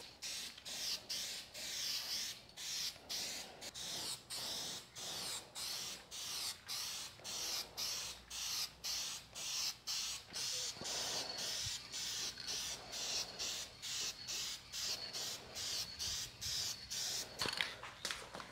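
Spray paint from an aerosol can going onto a car as a second coat, in many short, regular hissing bursts separated by brief gaps, close and steady with no talking.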